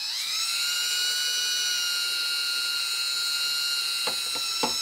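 Paint is mixed thoroughly with hardener and reducer, a steady high-pitched motor whine spinning up at the start and holding constant, then a few knocks and clunks near the end.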